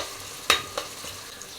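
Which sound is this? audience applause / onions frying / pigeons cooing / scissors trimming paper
onions frying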